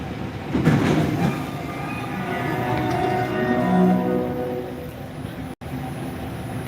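A Montreal metro train running, with a continuous rumble of wheels and motor, tonal whines rising and falling, and a brief dropout near the end. No talk.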